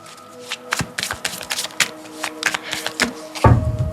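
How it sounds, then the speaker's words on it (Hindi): A Rider-Waite tarot deck is shuffled by hand, with quick close riffles and card slaps in an uneven rhythm, ending in a louder thump as the cards are set down. "Let me just pull out some more cards."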